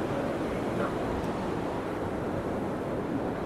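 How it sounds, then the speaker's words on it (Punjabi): Fast glacier-fed mountain stream rushes beneath a damaged bridge on a high trail, a loud continuous roar filling the whole stretch without a break. "ਆਹ ਦੇਖੋ ਪਾਣੀ ਬਹੁਤ ਸਪੀਡ ਨਾਲ ਆ ਰਿਹਾ ਇੱਥੋਂ"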